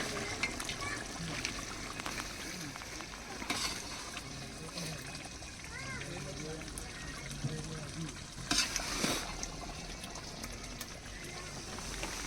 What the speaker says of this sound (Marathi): मस्त बुडबुड्यांचा आवाज येतोय